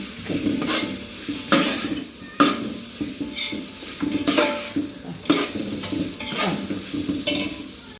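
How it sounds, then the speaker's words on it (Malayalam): Tomato and onion sautéing in a pan while garlic pepper rice is made, with steady frying sizzle and repeated stirring scrapes in an uneven rhythm, close and moderately loud, with no talking. "തക്കാളി ഇട്ടിട്ട് അതിനെ വഴറ്റിയെടുക്കാം."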